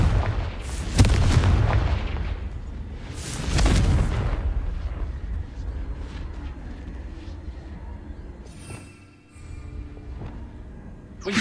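The Confringo explosion spell in Hogwarts Legacy goes off as loud, booming blasts. Two heavy explosions sound near the start, followed by a lingering rumbling tail and fainter crackles near the end.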